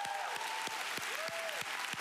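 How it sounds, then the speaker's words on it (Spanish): Faint rhythmic clapping from a church worship congregation praising Jesus, with evenly spaced claps about three times a second under sustained musical tones and a voice. "Un aplauso para Jesús"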